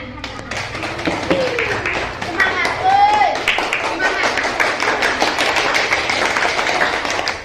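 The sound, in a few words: class clapping hands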